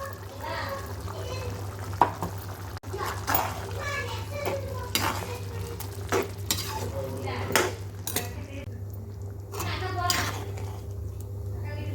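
Mutton gravy simmers in a pan as a spoon stirs and scrapes it, soft sizzling with intermittent metallic clinks, while a voice talks over the cooking.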